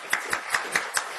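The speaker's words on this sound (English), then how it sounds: "So I think we should give a round of applause for that as well." A small audience at a scientific symposium claps briefly, giving five or six distinct, evenly spaced claps that sound thin and fairly close.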